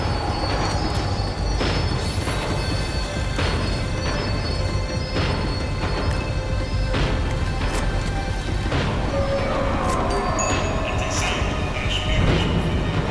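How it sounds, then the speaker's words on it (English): Tram in the video game Max Payne 3 slowing down, with loud rumbling rail noise, squealing wheels, metallic clanks and rhythmic clatter that run continuously. "The tram was slowing down, and I'd only just gotten on board."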